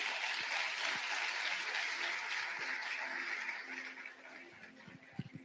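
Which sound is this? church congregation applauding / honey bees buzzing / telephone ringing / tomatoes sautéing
church congregation applauding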